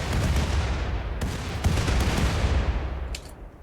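Artillery shells burst in quick succession in RimWorld, a dense rolling barrage of loud booms and crackling impacts that fades toward the end.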